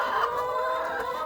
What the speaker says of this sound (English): Get ready for a lot of loud chicken noises.